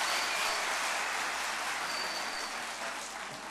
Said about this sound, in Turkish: Alkışlar Nurcan Hanım'a gelsin efendim